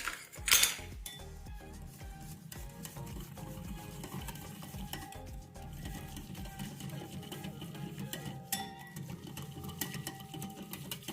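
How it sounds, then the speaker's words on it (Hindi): A spoon works through besan mixed with water in a bowl, making steady, rhythmic scraping and stirring with occasional light clinks against the vessel, close and fairly quiet, with no talking. "और इसको करना है अच्छे से मिक्स"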